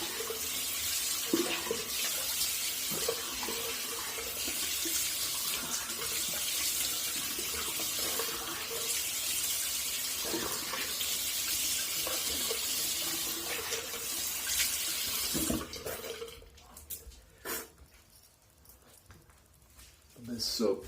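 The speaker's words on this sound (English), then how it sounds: "Let me rinse this off real quick." Water runs from a bathroom tap to rinse a razor after a shave, a steady close splashing flow that continues for most of the span, then breaks off into scattered drips and clinks toward the end.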